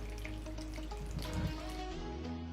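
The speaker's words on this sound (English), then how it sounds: "I'm adding real water here." Steady running water with a bubbling, splashing texture, like liquid poured or flowing into a container, continuous and close throughout.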